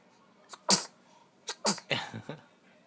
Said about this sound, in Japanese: ナイスくしゃみ。